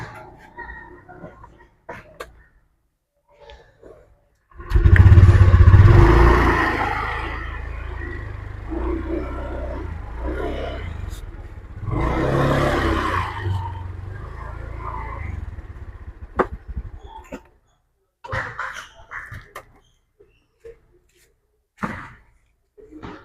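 A motorcycle engine roars up nearby, runs loudly for several seconds, eases, then revs again before fading, with scattered knocks and voices around it.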